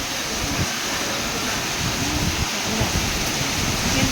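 Steady, loud rain and gusting wind sweep over open rice fields in a dense, continuous wash of noise, with low rumbling gusts beneath and no voices.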